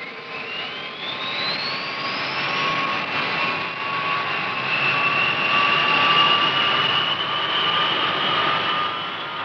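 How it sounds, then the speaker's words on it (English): B-52 bombers taxiing out at a Strategic Air Command base in 1968, a steady loud roar and high jet whine from the engines that rises slowly in pitch, continuous and fairly near. "Everything ready, the B-52s taxi out and are soon on their way."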